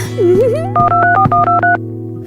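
A phone being dialed gives a quick run of about seven short, evenly spaced dialing tones, loud and close, over a steady low hum.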